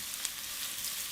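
Chopped onion and chili sizzling in hot lard or oil in a pan for refried beans, a close, steady bright hiss with no talking.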